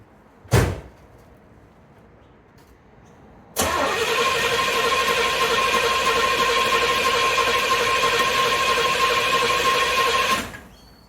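A 1 of 2000 Pontiac Trans Am that has sat in an Australian garage for about a month is cranked: a sharp knock, then a steady loud whirring drone of the engine turning for about seven seconds before it cuts off.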